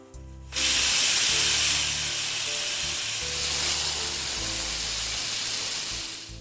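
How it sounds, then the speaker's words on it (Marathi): A pressure cooker holding potatoes for a bhaji releases steam in a loud, steady hiss that starts abruptly and holds strong for several seconds before easing slightly. "कुकरचं झाकण लावूया आणि अंदाजे 3 ते 4 शिट्ट्या करूया ह्याला"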